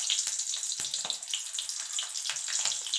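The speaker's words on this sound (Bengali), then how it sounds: "তেলটা হয়ে গেছে। দিয়ে দেবো একটা কাঁচা লঙ্কা" A green chili sizzles in hot oil in a wok, giving off a steady bright hiss dotted with small crackling pops, close and fairly loud, with no speech.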